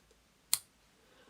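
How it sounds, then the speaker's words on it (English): Scissors snipping a crochet yarn tail: one sharp close click, quiet and isolated against near silence. "Then I'm going to cut the tail"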